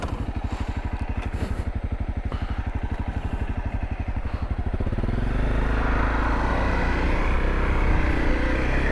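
Honda CRF250L dual sport motorcycle ridden on gravel, a steady rhythmic engine thrum that shifts into a louder, rougher roar with crunching rumble midway through, close and continuous with no talk.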